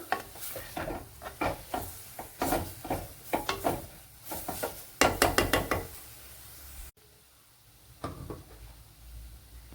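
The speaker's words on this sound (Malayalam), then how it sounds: "ഇതിനെ നല്ല പോലെ ഒന്ന് വഴട്ടിയെടുക്കണം തേങ്ങയുടെ പച്ചക്കുത്തൊക്കെ ഒന്ന് മാറണം" Coconut mixture for a bachelor-style Velapara fish curry being sautéed in a pan, with repeated clattering scrapes and knocks of a spoon against the pan over a soft sizzle, close and uneven, then quieter.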